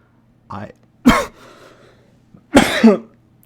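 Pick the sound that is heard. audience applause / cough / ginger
cough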